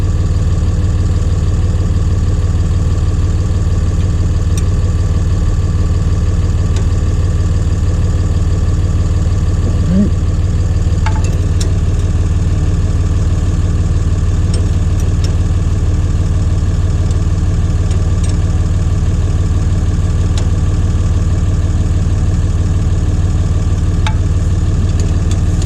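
A John Deere 2030 diesel tractor engine running steadily after an injection pump installation, a loud, close, continuous low rumble with a constant throbbing idle, no talking.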